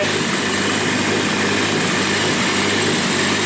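A fully built turbocharged Honda D16 engine runs on its first start, a loud, steady, close-up drone with dense broadband roar and no speech.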